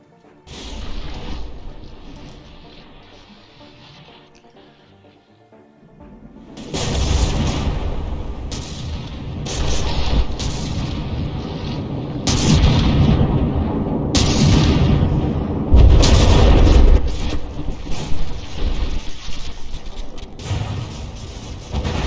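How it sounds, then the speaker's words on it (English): Heavy naval weapons fire in From the Depths, with a high-explosive mortar and a high-explosive APS gun pounding away: a quiet lull, then repeated loud booming shots and impacts in a dense, rumbling barrage. "that high explosive mortar and that high explosive APS gun is just landing shots into these"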